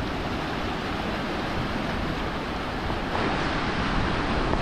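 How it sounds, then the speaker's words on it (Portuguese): Water rushing out through the sluice gates of the Barragem do Prata dam in Bonito, Pernambuco, while it overflows: a loud, steady, broadband roar that stays constant throughout. "Essa água aqui eu acho que é a parte das comportas, né?"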